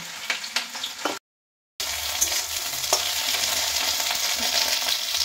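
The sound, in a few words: okra frying and being stirred in a pan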